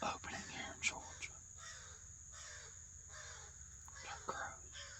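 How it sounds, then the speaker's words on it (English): Distant crows give a few short, scattered caws in a quiet outdoor setting on a Georgia bowhunting opening day, faint and sparse over a low steady background hiss. "Got crows."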